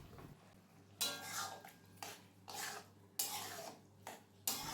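A spoon or spatula stirs chal kumro ghonto, an ash gourd curry with moong dal and milk, in a pan: five distinct bursts of scraping and clinking, evenly spaced and close, with quiet pauses between.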